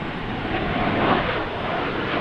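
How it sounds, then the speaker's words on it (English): An Embraer Legacy business jet at Dallas Love Field gives a steady, broad engine roar that swells slightly midway and holds at a moderate distance, with no talk. "I think this is an Embraer Legacy. It's like the business class version of the 135."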